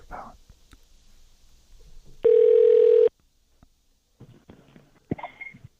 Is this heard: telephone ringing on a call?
yes